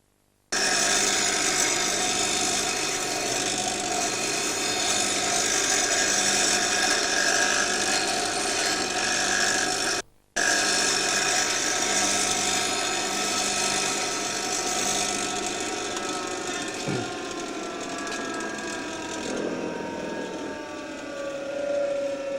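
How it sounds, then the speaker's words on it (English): Dry grinder sharpening wood turning tools freehand, a loud continuous whirring grind that runs steadily, breaks off briefly midway, then resumes with a falling whine as the wheel is worked. "use a dry grinder freehand to produce a good cutting edge on the turning tools"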